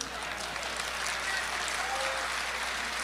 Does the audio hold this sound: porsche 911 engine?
no